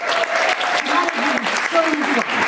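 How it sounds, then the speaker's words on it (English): A room of audience members claps steadily at a talk for a round of applause, dense and sustained throughout, with faint voices and cheers poking through the clatter. "So give yourselves a round of applause first to begin."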